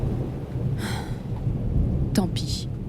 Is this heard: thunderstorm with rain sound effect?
yes